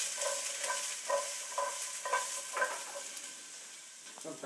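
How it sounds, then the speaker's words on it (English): Mushrooms and carrots sauté in a hot pan with a steady hiss, while a utensil scrapes and stirs them in a regular rhythm of soft strokes, close and alone. "We're going to just take them now and stick them with the carrots, and everything's going to saute nice."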